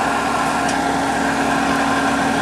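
Waterway Econo Flo variable speed pool pump running at about 2,350 RPM, a steady close electric motor hum with a constant whine and no variation.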